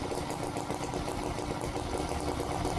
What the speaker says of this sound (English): I do love the awesome sound of the V-twin engine